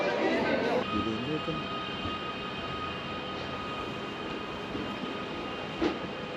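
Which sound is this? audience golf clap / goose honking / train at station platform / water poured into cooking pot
train at station platform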